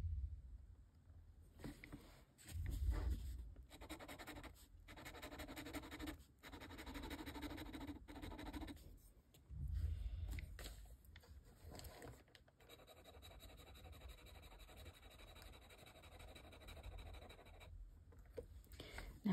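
A fountain pen fitted with a Kakamori brass nib in a Kakamori holder scratching across paper while swatching Sailor inks, faint close scraping strokes in short bursts under soft background noise.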